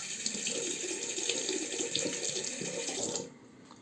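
A shaving razor being rinsed under a running tap, with steady splashing water filling a sink close by before it cuts off abruptly near the end.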